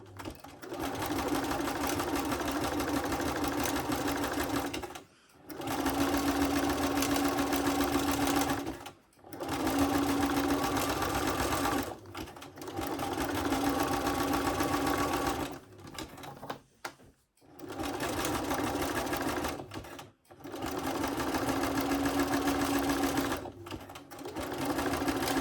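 A sewing machine stitches sash cord into a rope bowl. It runs in long, steady bursts of fast, even stitching, broken by short pauses, close and clear with no talking.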